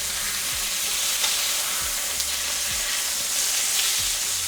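Food that has just been flipped sizzles in a frying pan with a constant, close hiss, joined by a few soft low thumps spaced through the sound.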